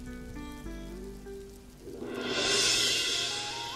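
Heavy storm rain swells in as a broad hissing wash during the second half, rising over soft sustained musical tones that carry the opening moments.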